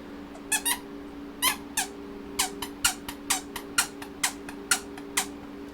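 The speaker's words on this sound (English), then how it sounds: "the button, the donut squeaked" A plush donut toy squeaks each time its hidden button is pressed, with about fifteen sharp, high squeaks in irregular pairs and singles, close and clear over a faint steady electrical hum.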